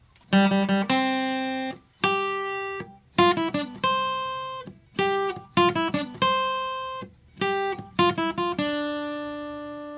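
A plucked guitar plays a bright, bold melody of short note groups and sustained tones on the bottom three strings, up close with no talking.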